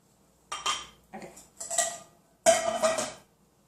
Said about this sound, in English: Just start mixing that together.